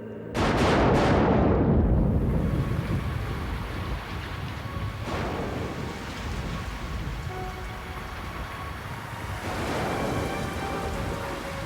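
Heavy rain falls steadily and loudly with a dense hiss, starting abruptly and continuing throughout, with occasional heavier bursts and no voices.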